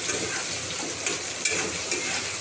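Chopped onion sizzling in hot oil with whole cumin seeds and a bay leaf, a steady dense crackle with small pops, close and fairly loud, with no talking.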